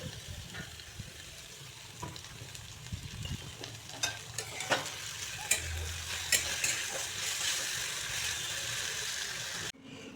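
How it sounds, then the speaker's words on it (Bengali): Vegetable stems frying slowly in a pan for a Bengali recipe with creeper greens, mustard and pumpkin leaves, giving a steady soft sizzle with occasional stirring scrapes and clicks, close and continuous, no talking. "এগুলোকে অনেকক্ষণ ভাজতে হবে, যেন গলায় না ধরে"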